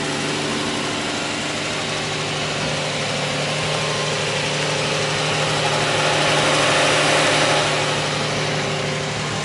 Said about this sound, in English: As you can hear, it ticks over beautifully.